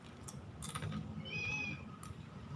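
A cat meows once with a short, fairly soft call amid background noise and other small sounds, with several cats gathered nearby.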